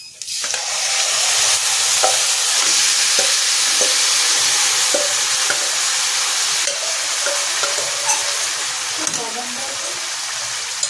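Mutton for a papaya and potato curry sizzles loudly in a hot pan, with a steady broadband fry and occasional scraping clicks of stirring throughout.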